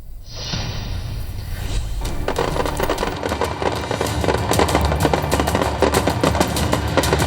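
Firecrackers set off for Diwali burst in a rapid, crackling string, loud and close, with sharp pops and thuds piling up over a constant smoky roar of continuous explosions.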